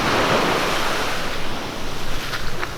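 Small ocean waves wash in at Hollywood Beach, a loud, steady surf roar with some wind buffeting the microphone and no talk.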